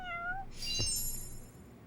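A cat in the video game Lost Judgment gives a short, clear meow partway through, with a rising then falling harmonic cry, close and alone over quiet game ambience.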